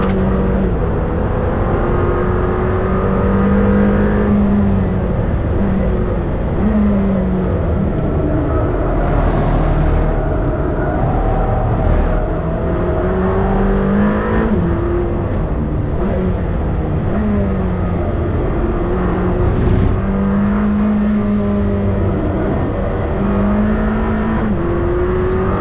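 Lamborghini Temerario engine pulling hard under acceleration inside the cabin, loud and continuous, with repeated rising revs that drop sharply at each gear shift, including short shifts and brief traction-control interventions.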